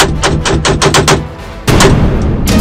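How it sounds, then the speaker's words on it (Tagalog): Test firing of an illegally sold gun: a rapid burst of about eight loud sharp shots in quick rhythm, a short pause, then further loud blasts, close and with no talking. "At bago mag-meet up, ang seller, aba, may pa-test fire pa."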